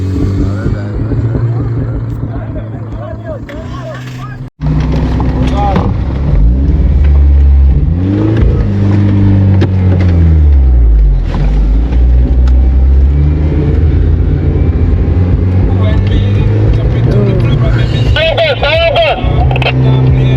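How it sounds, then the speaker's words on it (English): A Toyota Fortuner SUV pulls away across desert terrain, its engine rumbling and revving with rising and falling pitch while people talk loudly over it. "فورچونر رفت."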